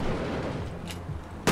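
A rocket launcher fires in the online shooter APB Reloaded, with a muffled blast near the middle and a sharper, louder burst at the very end over low game rumble.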